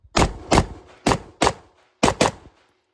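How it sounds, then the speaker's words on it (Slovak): A Ruger SFAR .308 rifle fires six sharp, loud shots at outdoor targets, in three quick pairs with short gaps between, each crack ringing briefly before the next. "takže budeme strieľať dve rany do terča vľavo, dve rany do stredného, dve do pravého terča."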